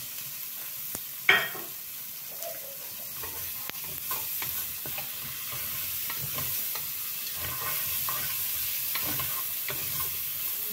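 Meat fries in a pan with garlic and onion, giving a steady low sizzle. A sharp clatter is heard early on, followed by faint scraping and stirring, and no voices.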